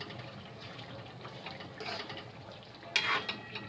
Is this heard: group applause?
no